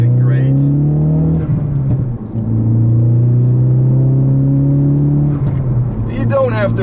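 A 2017 Ford Focus RS engine drones and revs through its gears, a loud up-close rising whine that dips at each shift, with someone talking over it.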